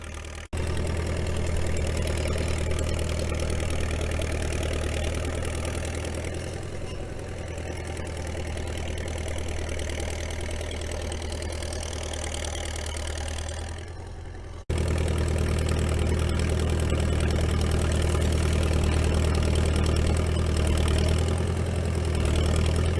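A small Caterpillar D6 dozer's diesel engine idles with a deep, steady rumble and knock while pushing firewood, close and continuous, briefly dropping then returning louder, with no talking.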